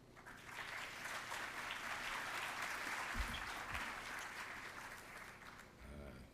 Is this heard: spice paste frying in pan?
no